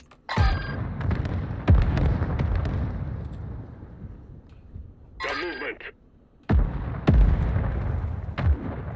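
Heavy mortar blasts in the video game Modern Warfare 2, deep booming explosions that land in several separate bursts with rumbling decay, mixed with scattered in-game sounds between impacts.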